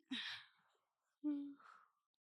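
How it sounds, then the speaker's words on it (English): A person yawns twice in close succession, each a breathy drawn-out exhale that falls off gradually, with a short quiet gap between them and no talking. "I cannot stop yawning."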